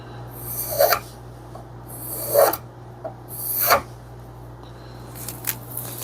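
A spokeshave shaves thin curls from a wooden board meant for a hatchet handle, giving three separate rasping strokes close up, each a short scraping rush, followed by lighter scratches and a low steady hum beneath.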